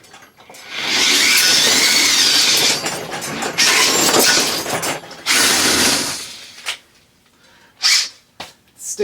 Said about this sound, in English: so we can drill through the head and separate this head from the shaft